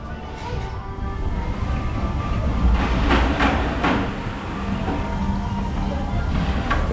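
Calamity Mine, a mine train roller coaster at Walibi Belgium, rumbles along its track with steady clattering and a swelling roar near the middle, heard from close by amid ambient crowd noise.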